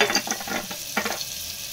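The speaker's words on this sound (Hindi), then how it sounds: "अभी कांदा को थोड़ा लाल कर" Onion with black cardamom, cloves and cinnamon frying in hot oil, giving a close crackling sizzle with a couple of stirring scrapes and no voices.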